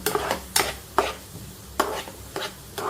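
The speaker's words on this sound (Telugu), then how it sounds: "ఇవన్నీ చక్కగా పింక్ కలర్ వచ్చేదాకా వేపుకోవాలి" Onions stirred as they fry in a pan, a spatula scraping and tapping in sharp strokes every half second or so over a soft sizzle, close and clear without speech.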